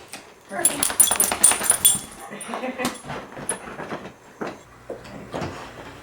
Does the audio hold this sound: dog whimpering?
yes